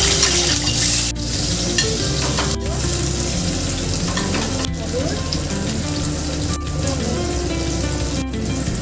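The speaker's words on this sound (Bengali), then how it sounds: "আবার একটু সরষের তেল দেবো, ফোড়ন দিয়ে দেবো" Spices tempering in hot mustard oil in a pan after fried brinjal is lifted out, for a fish curry with stems: a steady, loud, dense sizzle and crackle running throughout, with brief pauses and a few clinks, no talking.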